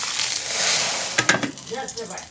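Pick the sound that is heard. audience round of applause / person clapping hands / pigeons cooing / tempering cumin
tempering cumin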